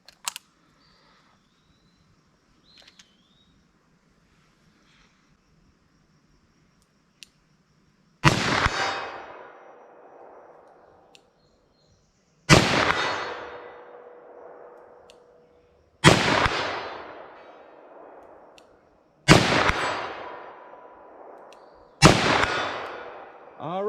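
Five sharp, loud revolver shots in .357 Magnum and .44 Magnum ring out at a range, spaced several seconds apart after a quiet opening, each with a sudden crack and a decaying echo.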